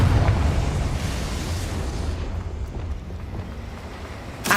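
A Confringo fire spell explodes in Hogwarts Legacy with a deep, rumbling blast that fades over a few seconds, followed by a short sharp burst at the end.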